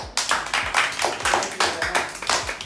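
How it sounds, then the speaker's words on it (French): A group of people claps together in a room, a quick, even run of sharp hand claps that carries on throughout, fairly close and alone. "on peut les applaudir."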